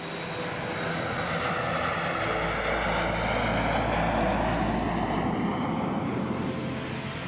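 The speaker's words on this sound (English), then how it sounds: "one of NASA's T-38 jet trainers." A NASA T-38 jet trainer aircraft roars steadily and loudly in flight, its broad engine noise holding constant throughout with no voices.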